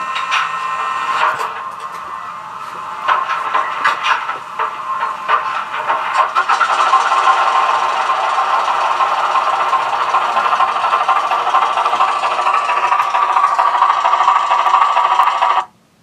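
A Bowser Baldwin DSR-4-4-1000 model locomotive with an ESU LokSound decoder runs through its engine startup sequence: clanks and air hisses give way to a steady diesel drone with a hissing edge, loud and close, cutting off abruptly at the end.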